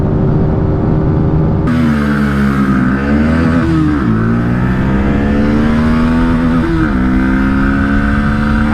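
Pulsar NS160 and TVS Apache 160 motorcycles in a drag race, engines loud and close, roaring steadily as they accelerate hard through gears, with pitch climbing and dropping at each shift.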